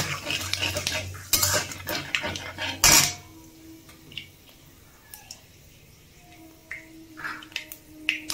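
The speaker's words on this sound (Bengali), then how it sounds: "এবারে 5 ফোড়ন আর শুকনো লঙ্কাটা ফোড়ন দিয়ে দেবো" Panch phoron and dried red chili hit hot oil left from frying fish for a vegetable-and-fish charchari, giving a brief crackle and clatter of spices and utensil taps, louder early on and then settling into quieter scattered pops.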